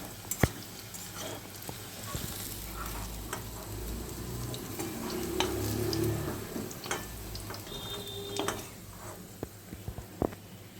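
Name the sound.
potatoes and eggplant frying in oil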